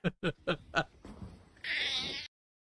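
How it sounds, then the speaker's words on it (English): Cat meowing four times in quick succession, close and clear, followed by a brief hiss-like burst of noise, with no talk over it. "That cat."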